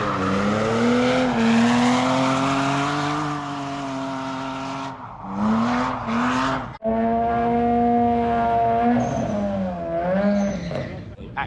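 Drag racing cars run on the Santa Pod quarter-mile strip, loud engines revving and roaring with rising and falling pitch in several bursts, heard close at hand.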